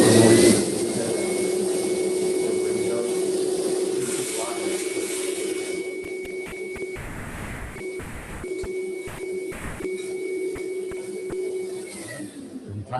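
A vacuum cleaner runs with a steady, loud whining drone that holds for most of the stretch, broken near the end by a few brief bursts and fluctuations, with no talking over it.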